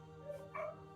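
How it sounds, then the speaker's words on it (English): Dogs barking and yipping in the background of an indoor space, a couple of short excited bursts at moderate distance, faint and somewhat muffled. "Sorry, my dogs are going crazy."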